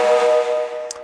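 A snare drum with its snares set too loose gives a sustained, buzzing ring that carries through the whole moment before fading slightly, with a brief sharp tick near the end.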